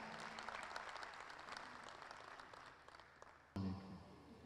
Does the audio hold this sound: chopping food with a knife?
no